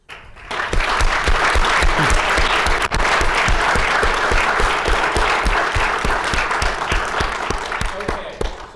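Students, teachers and parents at a high school entrepreneurship pitch event applaud together, a loud, continuous crowd clapping with distinct individual claps punctuating the steady roar from start to finish.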